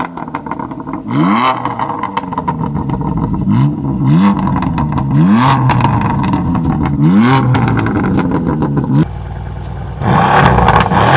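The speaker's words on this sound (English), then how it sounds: "and then next you're going to hear the M4" A BMW M4 Competition exhaust rasps through a series of quick rev sweeps and upshifts, loud and close, then settles briefly before one more aggressive burst, with no voices.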